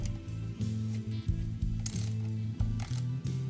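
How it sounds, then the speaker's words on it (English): A ratchet wrench on a Ryobi pressure washer clicks in quick repeated bursts, its pawl catching on each short stroke while only tightening, close and fairly quiet with no talking. "I can get my ratchet to work. Why is it not loosening? It only tightens."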